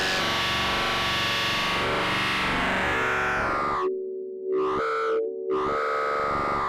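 Heavily distorted, buzzing audio from a WMD C4RBN filter, with a harsh saturated tone, cutting briefly into sustained droning pitches before the gritty distortion returns.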